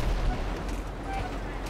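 Gunfire from a weapon in GTA V, a short burst of booming shots heard close and loud over a dense game soundscape.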